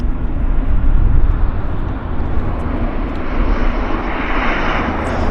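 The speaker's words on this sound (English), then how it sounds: "Air India is just about getting ready to taxi here" An Air India airliner's jet engines roar steadily at Vancouver airport as it gets ready to taxi, a loud, broad rumble that swells and eases slightly.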